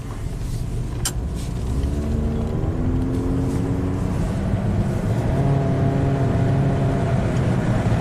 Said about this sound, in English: So let's take it for a spin and see how it drives.